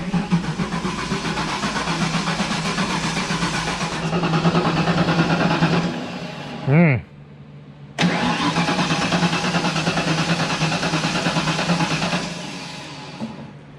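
A turbo car engine cranks over on its first start attempt, a loud, steady starter churn that pauses briefly midway and then resumes for several more seconds, with no voices.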